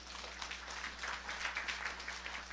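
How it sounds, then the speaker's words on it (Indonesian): A church congregation gives a round of applause, a steady, moderately loud clapping with a low hum underneath. "Yang setuju berikan tepuk tangan"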